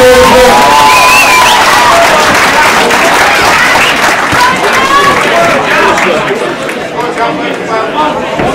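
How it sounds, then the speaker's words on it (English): Crowd at a boxing club applauding the fighters during an amateur bout, loud sustained clapping and cheering with chatter, close and continuous throughout. "Ladies and gents, let's make a big round of applause."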